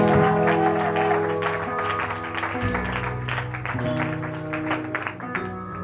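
A church congregation applauds during a Sunday service, a steady wash of clapping running throughout beneath sustained organ or keyboard chords, with voices and music mixed in.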